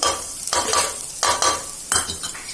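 Dal and soya chunks fry in a pan while a spoon stirs them, giving three or four close, rhythmic scraping sweeps over a soft sizzle.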